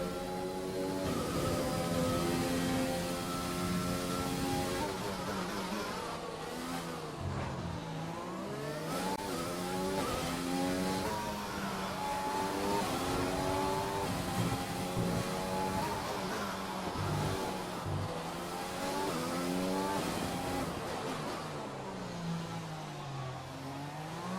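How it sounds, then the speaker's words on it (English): Racing-game car engine screaming through the last lap at Monaco, revving continuously with rapid gear shifts and pitch sweeps, loud and close with no talk over it. "Just gonna leave you with the sound of this last lap."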